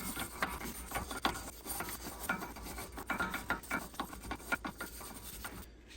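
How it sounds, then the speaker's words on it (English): A wire brush scrubs rust and grime from the wheel hub of a Porsche Cayman 987 during a brake pad and rotor job, giving a steady run of close, raspy strokes with no talking. "Wire brush to clean up the hub."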